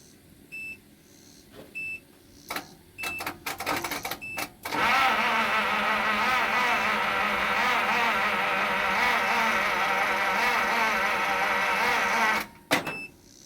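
Starter on a 1952 Pontiac Chieftain cranks steadily for about eight seconds without the engine catching, preceded by a few short clicks and beeps and ending with another brief burst.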